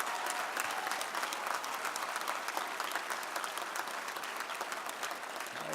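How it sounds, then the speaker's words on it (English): An audience at a ribbon cutting ceremony claps steadily and continuously, dense sustained applause from many hands in a crowd, with no talk over it. "Let's give her another big round of applause."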